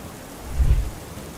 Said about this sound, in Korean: 정말로 40일 동안 밤낮으로 쉬지 않고 큰 비가 내렸어요.